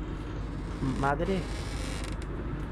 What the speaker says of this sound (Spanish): Estoy escuchando una puerta.